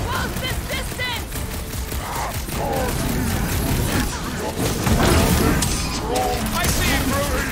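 Sniper gunfire and combat in Marvel's Guardians of the Galaxy video game, with repeated sharp shots, crashes and mechanical clatter under a dense battle mix, while voices shout over it.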